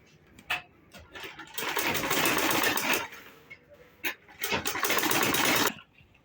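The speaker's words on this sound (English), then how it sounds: "I'm going to fold the 10 inches side into two and top stitch." Sewing machine top stitching a folded fabric card wallet, two close, loud runs of fast rhythmic needle hammering, with short taps and clicks between them.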